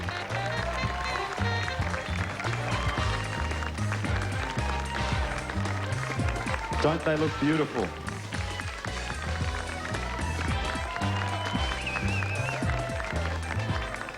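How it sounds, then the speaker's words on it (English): Audience applause at the Miss World Australia 2003 pageant as contestants return to the stage, a continuous roar of clapping and crowd noise mixed with loud music, with a voice speaking over it. "Clap as the girls come back out on stage."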